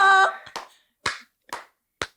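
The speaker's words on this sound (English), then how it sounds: "Slow clap, bro." Four slow, evenly spaced hand claps ring out alone after a brief tonal sound, each a sharp, close, separate clap with silence between.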